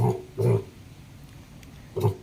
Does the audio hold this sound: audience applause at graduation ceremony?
no